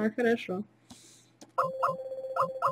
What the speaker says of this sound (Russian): Что это мне звонят?